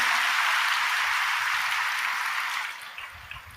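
A church congregation claps together during a sermon, a dense burst of applause that holds steady and then thins out and fades near the end.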